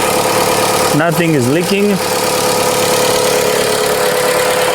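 Chrysler 200 engine idling with an overheating and coolant-leak problem, a steady mid-pitched hum throughout, with someone talking briefly over it.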